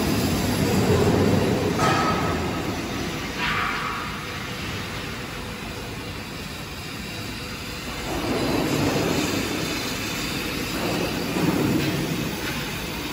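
A gas fire heats an old LPG cylinder for dent removal, giving a steady, loud, broad roar of flame that swells and eases slightly throughout.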